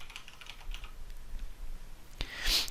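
Quick, light keystrokes tap on a computer keyboard in a short burst, close and fairly quiet, ending in a couple of sharper clicks.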